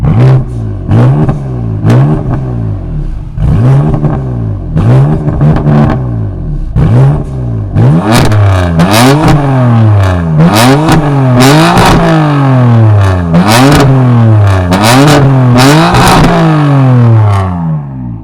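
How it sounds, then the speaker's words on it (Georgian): A BMW M4 engine is revved repeatedly, loud and close, each rising roar dropping back before the next, coming faster and sharper in the second half with crackles between revs. "მოდი ახლა მოვუსმინოთ M4-ს, რომელსაც ვთვლი, რომ საშინელი ხმა აქვს"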